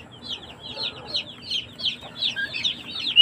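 Rhode Island chicks chirp inside an incubator, a lively run of rapid, high peeps repeating close by with a faint steady hum underneath.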